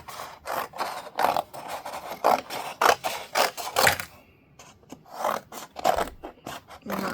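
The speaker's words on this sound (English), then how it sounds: "I'm just trying to cut them so they're more manageable sizes for when we go under the UV light." Scissors snipping paper for a UV resin experiment, a run of short crisp close cuts in an uneven rhythm, with a brief pause before a few more snips.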